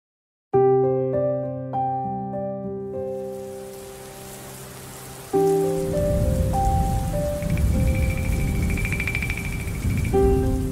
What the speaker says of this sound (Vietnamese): mưa hột nào hột nấy bự như hột bắp, chổi rào rào trên mái nhà